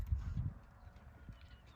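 A horse trots during a riding clinic, its hoofbeats coming as a soft, muffled, rhythmic clip-clop that fades slightly.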